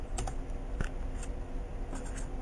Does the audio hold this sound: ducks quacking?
no